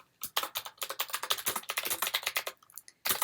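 Rapid computer keyboard typing while entering a website citation, a steady run of close, crisp key clicks with a short pause before a final burst.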